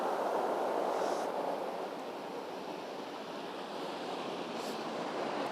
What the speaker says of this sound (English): Beautiful sea, look.